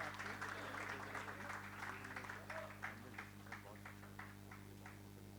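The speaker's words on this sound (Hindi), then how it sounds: "नायक दीपचंद जी साहब के लिए जोरदार तालियां।" Faint, steady applause from an audience at a film trailer launch event for Border 2, with clapping that thins out toward the end over a constant low electrical hum.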